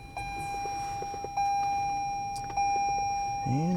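Short electronic beeps and a sustained steady chime from a 2020 Toyota RAV4 Hybrid XSE's push-button ignition start, a few clicks between tones, ending in a rising sweep as the system powers up.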